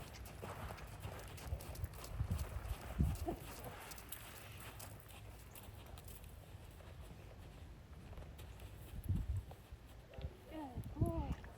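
A horse's hooves clip-clop at a walk during a ride, soft and fairly close, with irregular steps under faint background noise and occasional voices.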